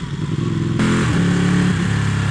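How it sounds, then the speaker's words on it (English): Ducati Panigale superbike (899/1199S) engine heard from the saddle, a loud raucous revving roar that jumps up sharply and keeps growling with rising and falling pitch, alone without talk. "raucous engine underneath me"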